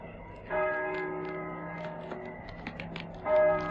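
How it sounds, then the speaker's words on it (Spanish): Church bells toll at San Juan del Duero, two loud resonant strikes a few seconds apart with long ringing hum sustained between them, clear and fairly close with no talking. "Las campanas doblan."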